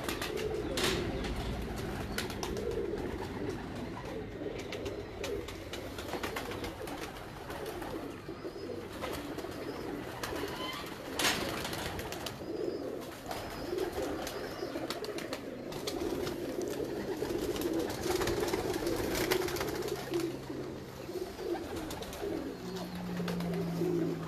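Breeder pigeons coo steadily at a fancier's loft, a continuous soft rumbling chorus with background ambience and no talk over it.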